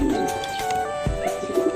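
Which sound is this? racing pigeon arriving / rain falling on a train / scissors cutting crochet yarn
racing pigeon arriving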